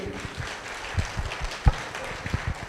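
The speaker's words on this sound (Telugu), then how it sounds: "అందరూ మంచిగా పిల్లలు ఇద్దరికి చప్పట్లు కొట్టండి" An audience at a free Heartfulness meditation event in Metpally claps for two children with light, scattered applause and a few sharper individual claps, while a voice murmurs faintly underneath.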